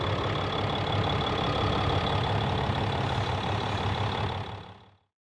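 A 2016 RAM 2500 Tradesman with a Cummins diesel engine idles in a steady, low rumbling chug with a fine knocking texture, moderately loud, before cutting off near the end.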